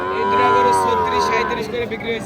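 Young cows at a cattle market give a loud, drawn-out moo close by, with market noise behind it.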